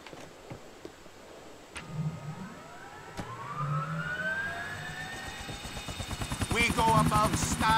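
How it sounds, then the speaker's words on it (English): Helicopter in the video game GTA The Ballad of Gay Tony, a rising rotor and engine whine that swells steadily and grows louder toward the end, with game sounds mixed in. "Take command of Chopper!"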